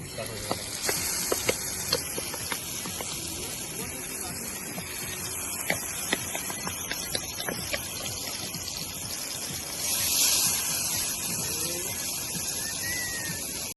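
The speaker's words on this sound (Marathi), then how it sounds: "आपले तांबोशी आणि ब्लबरली फ्राय होत आहेत" Marinated fish frying on a hot griddle at a seaside camping spot in Alibaug gives a steady, broad hiss with scattered crackles and pops. The sizzle swells briefly louder partway through.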